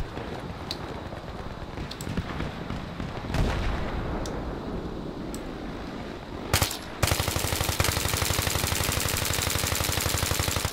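Battlefield 3 multiplayer gunfire, with scattered shots and booms that give way to a dense, continuous automatic burst in the final seconds.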